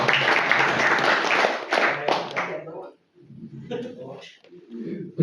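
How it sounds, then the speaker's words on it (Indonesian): Members of a butchers' association are applauded at a gathering: a burst of brisk group clapping for about three seconds, then it stops and a voice speaks over quieter room sound. "Kita berikan tepuk tangan buat seluruh anggota Juleha"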